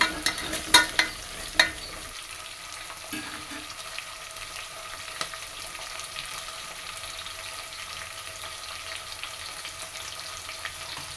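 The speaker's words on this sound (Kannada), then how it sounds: "ಹಾಕ್ಕೊಂಡು ಈರುಳ್ಳಿ ಮತ್ತು ಹಲಸಿನ ಬೀಜ ಫ್ರೈ ಮಾಡ್ಕೊಬೇಕು" Onion and jackfruit seeds fry in a pan with a soft, steady sizzle, a few sharp stirring clinks near the start, then quiet continuous frying with no talk.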